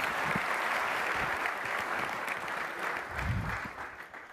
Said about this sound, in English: Give yourselves a big round of applause this morning